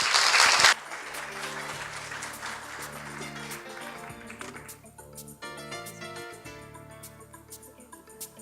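Audience applause at a KOICA-JICA forum session: a sharp loud burst at first, then a thinner round of clapping that tapers off over several seconds while a tonal musical sound rises underneath.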